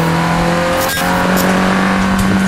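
A car engine pulls hard on a lap of the Anglesey circuit in North Wales, a loud steady drone heard from inside with a brief dip near the gear change.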